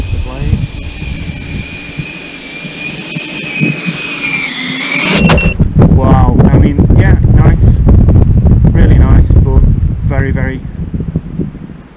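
Quadcopter on 8-bladed 76mm propellers whines with a high, pitch-shifting motor tone that rises as it throttles up, then gives way to loud gusty wind-like rushing, with someone talking over it.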